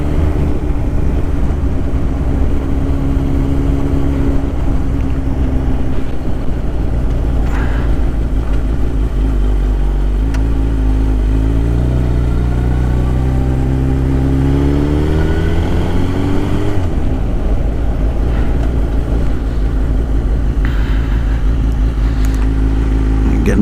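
Suzuki GSX-R 1000 litre sport bike engine heard up close, idling loudly, then revving up in first gear as the clutch is let out, pitch climbing steadily before dropping back, with continuous wind rumble throughout.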